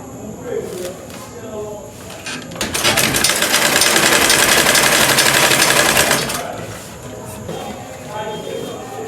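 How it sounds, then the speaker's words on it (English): A sewing machine stitching fabric for a bedsheet runs in a steady fast whirring burst of a few seconds, loud and close, with someone talking before and after it over light room noise. "we're just going to sew it"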